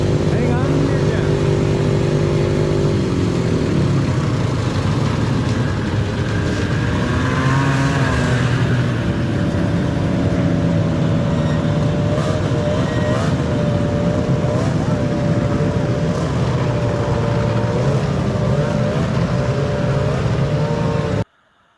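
Vintage snowmobiles roar past in a steady, loud stream of buzzing two-stroke engines with rising and falling pitch, while people talk over the noise throughout.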